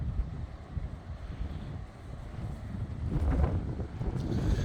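Strong wind at a coastal wetland reserve on a wet day, gusting hard into the microphone with a low, rough rumble that swells louder toward the end.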